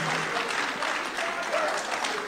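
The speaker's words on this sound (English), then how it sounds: "Warmer applause, please." Dense applause from a crowd at Asamoah Gyan's autobiography launch fills the room, steady and sustained without a break.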